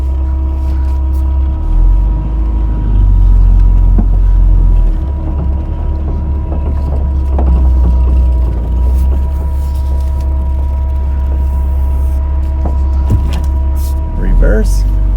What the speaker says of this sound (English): Engine's running strong.